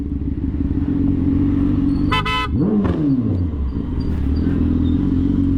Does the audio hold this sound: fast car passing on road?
yes